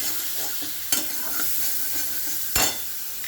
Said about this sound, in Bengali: দিয়ে আবার একটু নাড়িয়ে দেবো।